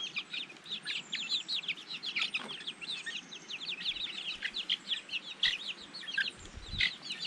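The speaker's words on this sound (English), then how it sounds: "They do like getting out here in the grass and pecking around a little bit." Chickens cluck and chirp as they peck in grass outdoors, with busy, overlapping calls at a moderate distance and a few soft low thumps nearby.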